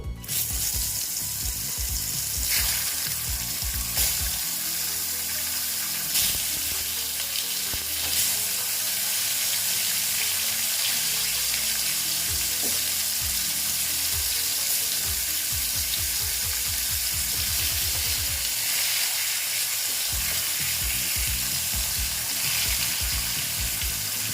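Pieces of ash gourd frying in a pan, a steady bright sizzle throughout with occasional stirring knocks and scrapes, loud and close with no talking.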